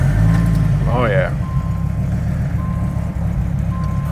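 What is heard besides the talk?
Dodge Viper GTS engine starting up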